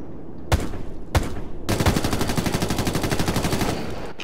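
PDR gunfire in Ghost Recon Future Soldier: two sharp single shots followed by a long, rapid automatic burst, loud and close, with no talk over it.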